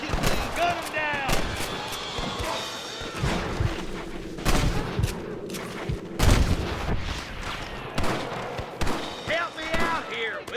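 Gunfire in a Red Dead Redemption shootout, with repeated sharp shots and bursts scattered through the scene, some loud and close, mixed with shouting voices and game chatter.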